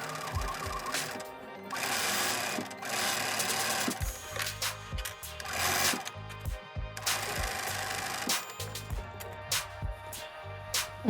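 A sewing machine stitches together pieces of a sherpa bucket hat, running in loud bursts of rapid mechanical rattling with short pauses between runs, close up.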